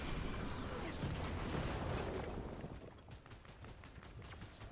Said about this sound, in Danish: Det bliver skudt nedefra.